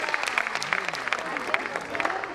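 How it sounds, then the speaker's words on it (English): Audience applause at a preschool annual day event, a steady patter of many clapping hands filling the hall, with voices mixed in underneath. "we have a big round of applause for our entire lot at Little Millennium."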